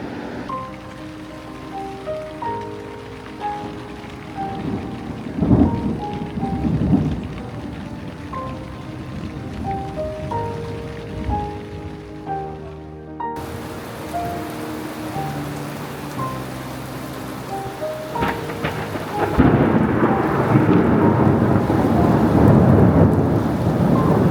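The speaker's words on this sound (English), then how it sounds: "it started to rain and we had to return back to our tent" Rain falls at a riverside campsite in Ladakh, a steady broadband hiss with faint tonal notes drifting over it, growing heavier and louder in the last few seconds; no one speaks.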